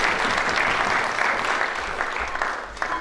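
An audience at a university public lecture breaks into sustained applause, a dense wash of many hands clapping loudly and evenly before tapering slightly at the end.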